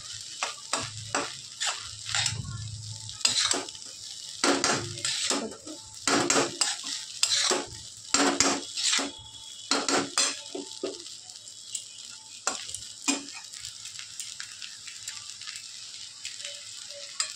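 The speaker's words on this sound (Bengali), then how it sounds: "তো এবার ভালো করে নাড়িয়ে নেব।" Egg chicken Hakka chow mein noodles frying in a pan while a utensil stirs and tosses them, making repeated rhythmic scraping and clanking strokes over a low sizzle, close and fairly loud, with brief pauses between bursts.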